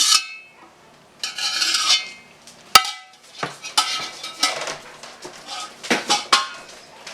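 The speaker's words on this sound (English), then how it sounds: "I'm just going to smash these to release the leftover liquid into our bowl" Elderberries being smashed in a bowl to press out the last juice for elderberry syrup make irregular clinks, knocks and wet scraping bursts of a utensil against the bowl, with short pauses between.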